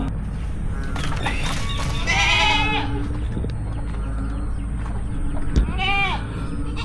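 Goats bleat twice over a steady farmyard background on a rainy goat farm, with wavering, drawn-out cries at moderate distance and a brief knock between them.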